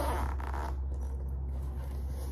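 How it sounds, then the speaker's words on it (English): A zipper is pulled open around a hard padded carrying case for a 21-string transparent acrylic lyre, one steady close-up unzipping stroke against a low background hum. "it comes in a hard, like a hard padded case, and it has a little carrying handle on the top, and it zips, unzips all the way around"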